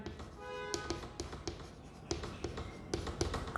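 A pen writing on paper, with quick scratching strokes and light taps in an uneven rhythm, close and quiet, with no voices.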